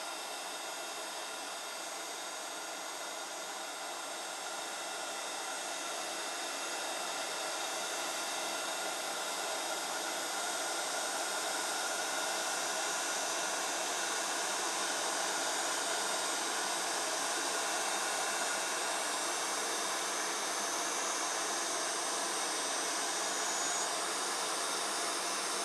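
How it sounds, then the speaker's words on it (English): A heat gun blows hot air over embossing powder on a card, a continuous loud fan-like roar and hiss that holds steady and swells slightly, close by, with no talking. "As soon as you see it turn, just move that heat gun over the image."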